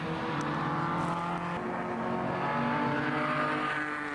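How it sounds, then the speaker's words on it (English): An MGC GTS sports car races at Silverstone, its engine holding a loud, steady roar close by for the whole stretch, with no clear pass-by swell and no talk. "Number 7, that's Peter Radcliffe in his MGC GTS."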